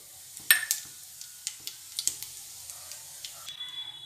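Cumin seeds and dried red chilli sizzling in hot oil for new-potato aloo dum, with scattered faint pops and crackles over a soft hiss, fairly quiet and close, no talk.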